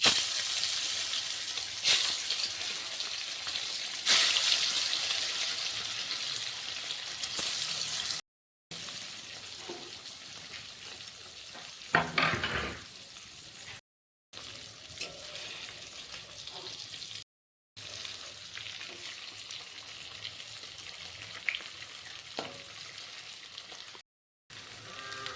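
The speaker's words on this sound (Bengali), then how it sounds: "আমি বলেছিলাম ডিমগুলো হালকা করে ভাজবো" Eggs frying lightly in oil with a little turmeric in a kadai, a soft steady sizzle with brief breaks and a short bubbling burst, low and close.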